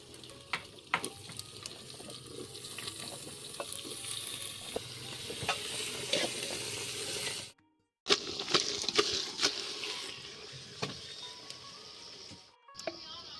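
Chopped bottle gourd fries in a pan over a village wood fire, a soft, crackling sizzle with scattered pops and stirring, broken by two brief silent gaps.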